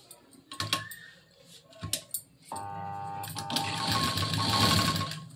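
A sewing machine stitches along the edge of a blouse sleeve lining, starting in short bursts and then running steadily for a couple of seconds with a close, whirring mechanical clatter.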